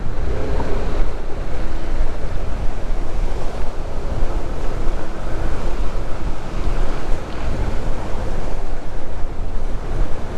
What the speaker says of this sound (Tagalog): Lakas ng hangin dito sa taas.